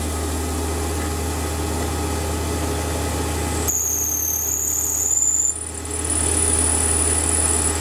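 Hand drilling a 4.5mm hole with a power drill into a metal part for a shop-made knurling tool, a steady whirring motor drone with a high whine that shifts pitch partway through as the bit bites, close and continuous.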